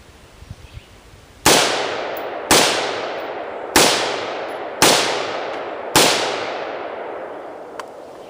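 Five loud gunshots from a rifle being test-fired with an ALG ACT single-stage trigger, spaced about a second apart with ringing decay after each, following a few faint clicks, with no talk.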